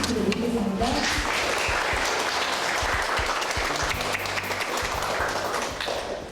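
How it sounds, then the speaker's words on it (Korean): An audience claps to welcome a speaker to a lecture on hanok architecture, giving dense, sustained applause at a strong, steady level with a voice briefly mixed in. "우리 이완기 교수님 박수로 모시겠습니다."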